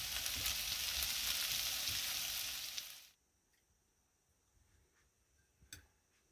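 Potatoes with onions, fried eggs and bacon sizzle in a pan at an off-grid campsite, a dense crackling hiss for about three seconds that stops abruptly and leaves near-silence with a few faint ticks.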